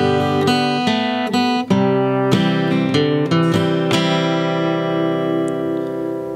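Acoustic guitar strummed through measures three and four of a song, a steady close run of chord strokes ringing into a sustained final chord, with no voice.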